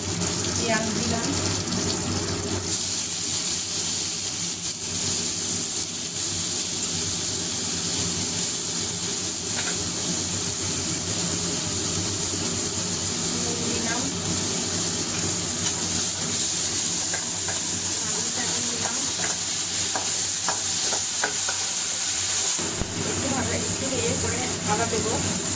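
Green chili and onion frying in a pan for eggplant bharta, a steady broadband sizzle that runs nearly unbroken and fairly loud the whole time, with a voice talking over it.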